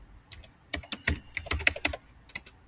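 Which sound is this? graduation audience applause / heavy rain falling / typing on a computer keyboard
typing on a computer keyboard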